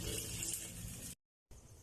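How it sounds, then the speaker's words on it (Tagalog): Water splashes steadily into a cooking pot of meat seasoned with oyster sauce, bound for a pressure cooker, a close, loud rush that cuts off abruptly, then a softer wash of sound after a short silence. "mag-add na tayo ng tubig"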